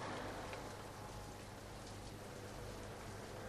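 Steady, even rain hiss fills the whole stretch, a continuous wash of falling water with no voices.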